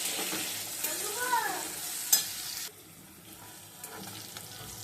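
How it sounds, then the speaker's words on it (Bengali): Chopped garlic fries in a pan for chowmein, giving a soft, steady sizzle with a few scraping stirs and a brief clatter midway, quiet and close, fading to a lower hiss. "হালকা একটু ভেজে নেব"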